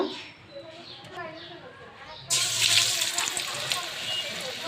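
Tomatoes tipped into a pan of hot soybean oil set off a sudden, loud, sustained sizzle and hiss. Before that comes a quieter stretch with a voice talking.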